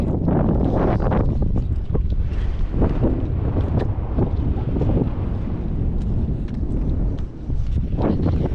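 Gusty wind blows across the Kingston jetty by the sea, buffeting the microphone with loud, continuous roaring and rumbling that rises and falls throughout.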